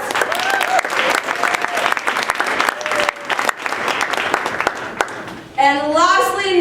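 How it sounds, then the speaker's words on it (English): Audience applause at a college Martin Luther King Jr. Day hip hop event, a sustained crowd clapping with scattered whoops, followed at the end by a person talking. "Let's give them a round of applause."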